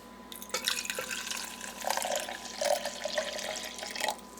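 Boiled and cooled milk is poured into a glass for a shaken Boost drink, making a faint, close trickle and gurgle that swells and eases over several seconds.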